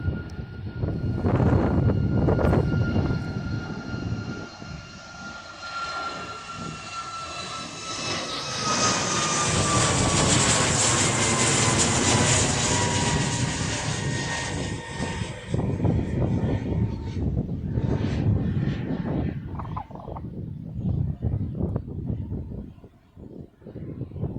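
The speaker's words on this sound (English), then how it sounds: "we've got a plane that has landed, and yeah, it's another one of those 737s" A Boeing 737 airliner lands with a loud, sustained jet engine roar that rises and falls over about twenty seconds, its whine sweeping downward as it passes, heard alone without talk.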